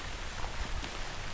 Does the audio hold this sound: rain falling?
yes